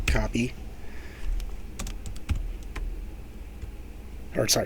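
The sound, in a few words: typing on computer keyboard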